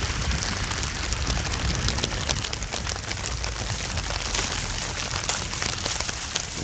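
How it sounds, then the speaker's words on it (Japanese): Steady rain falling after snow has turned to rain, pattering densely and evenly on surfaces including the top of a car, with no voices. "今雪がですね、もう雨に変わっています"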